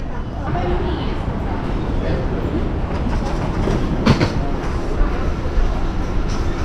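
A Copenhagen metro train rumbles and clatters steadily nearby, with rolling wheel noise throughout and a brief squeal midway.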